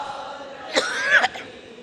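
A man coughs and clears his throat during a religious talk about Shab-e-Qadr, a couple of harsh, close bursts rising out of a quiet room.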